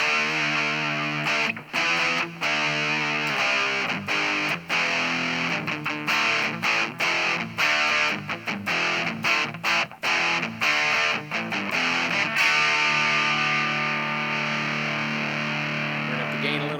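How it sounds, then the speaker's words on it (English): An electric guitar runs through a distortion effect and out of a pair of 1-inch speakers, a thick, saturated, continuous riff of strummed and chugging notes with brief choppy breaks, loud and steady throughout. "This is the distortion. I love this this tone here."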